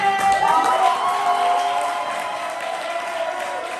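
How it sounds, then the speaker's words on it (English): Crowd applause with some cheering at a poetry slam, loud at first and gradually easing, with a tonal hum running underneath. "Keep that applause going for your next poet on the mic"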